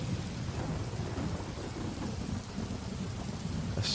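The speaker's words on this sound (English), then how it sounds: "A storm approaches." A thunderstorm with steady, dense rain, low rumbling thunder rolling beneath and a sharper crackle near the end, heard alone and fairly quiet.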